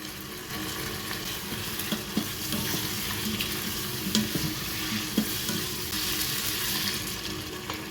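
Cumin seeds and cardamom sizzling in a pan as pilau is being cooked, a steady frying hiss with occasional stirring scrapes and small pops at moderate level, no talking.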